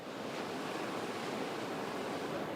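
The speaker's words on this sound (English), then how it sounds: "let me throw the microphone right out toward the waves and let me know if you can hear this" Roaring wind-driven ocean surf on the Florida coast during Tropical Storm Imelda, a steady, loud wash of breaking waves with gusting wind buffeting the microphone throughout, no voices.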